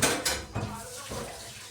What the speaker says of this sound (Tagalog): maghugas tayo ng bigas